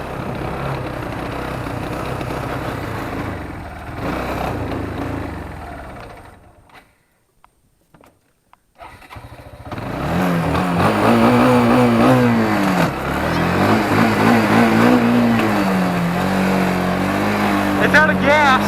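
A small motor vehicle engine revs hard and raggedly, cutting out briefly near the middle before roaring back louder with rising and falling pitch, close by and under occasional talk.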